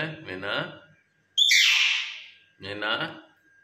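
A pet myna bird lets out one loud, harsh, raspy squawk lasting about a second, close by. A person talks to it just before and after.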